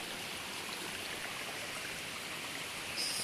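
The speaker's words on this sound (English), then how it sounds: "this waterfall is situated at 6 meters above the sea level" Mamirli Waterfall in Qakh gives off a steady, dense rush of falling water in autumn, close and constant, with no voices.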